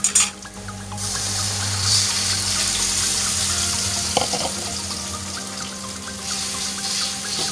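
Water poured into a pan of frying shallots and garlic while cooking prawns in oyster sauce, giving a loud steady rush and hiss that settles into continuous bubbling sizzle, close up with no talking.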